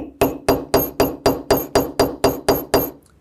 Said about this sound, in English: And not with my ball peen hammer, but I'm going to go back to using my maul.